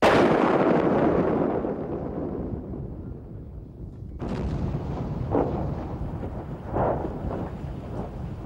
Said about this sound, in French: Chaque année, ces canons tirent plus de 50 fois.